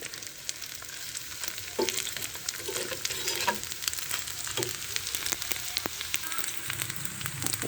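Continuous sizzling of prawn fritters frying in hot oil, a steady crackle with occasional pops, no voices.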